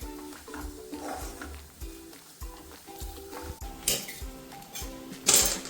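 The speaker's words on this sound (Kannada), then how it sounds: "ಎಳ್ಳಿಕಾಯಿ ಕಟ್ ಮಾಡ್ತಿದ್ದಾರೆ" A knife slices through heralekai, a citron, on a kitchen board, giving a series of close, uneven chops and taps mixed with clinking of utensils and dishes, no one speaking.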